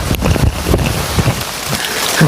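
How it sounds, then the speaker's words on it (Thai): Rain falling steadily outdoors, a dense hiss with scattered drops and gusts of wind buffeting the microphone, continuous and fairly loud throughout. "ฝนตก"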